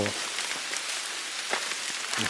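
Heavy rain in a forest pours down as a loud, continuous hiss with sharper patters of drops striking nearby surfaces.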